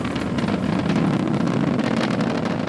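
SpaceX Falcon 9 rocket engines throttling down during ascent, a dense, steady roar with a low rumble and wind-like crackle, loud and continuous throughout.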